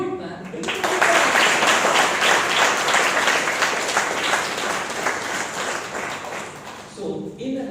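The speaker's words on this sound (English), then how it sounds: "Do you have to pay a GST or income tax just to clap your hands?" An audience at a Rotary awards keynote address breaks into sustained applause, a dense wash of many hands clapping that swells quickly, holds for several seconds and then tapers off as a voice returns.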